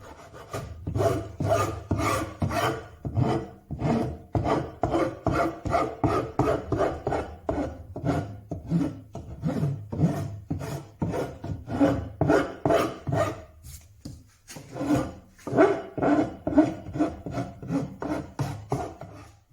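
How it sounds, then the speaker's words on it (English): Rhythmic rasping strokes of a hand file rounding and softening the corners of a wooden bread board, close and clear, dozens of back-and-forth passes with a short pause before resuming. "So out comes the file, and I'm just taking the corners off, just softening all those edges"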